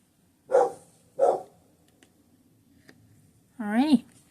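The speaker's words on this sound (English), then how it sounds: "Sorry for the barking." A dog barks twice indoors at deer outside, sharp and fairly close, followed by a brief rising yelp or whine after a pause, with quiet room background in between.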